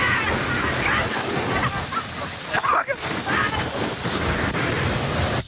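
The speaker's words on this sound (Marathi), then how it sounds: "मित्रांनो, आता धबधबा आमच्या वरती आहे." A steady roaring rush of a waterfall falling from just above fills the whole clip, loud and close, with a voice faintly present beneath the noise.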